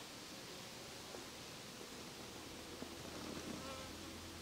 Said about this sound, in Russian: Удивительно, в наставках пчелы есть.